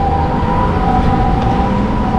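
A Japanese ambulance siren sounds on a city street, a loud, steady tone holding through the whole stretch over a dense bed of traffic noise, with no talking.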